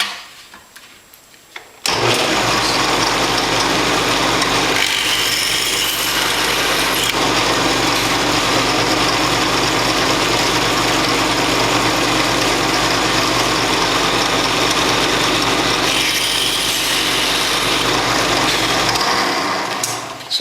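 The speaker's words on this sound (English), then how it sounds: "now I can drill these 2 that I just took the clecos out from" A drill whines steadily as it bores rivet holes in the aluminum fuel tank access cover of an RV-7 aircraft wing after the clecos are pulled, running close and loud for about seventeen seconds between quiet moments.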